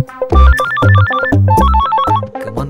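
A telephone rings loudly and close by, playing a melodic ringtone that repeats its short tone pattern several times without pause.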